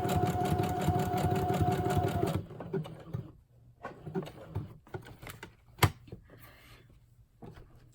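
A sewing machine stitches a zigzag in a fast, even mechanical whir for about two seconds, then stops, leaving quiet scattered clicks and handling noises.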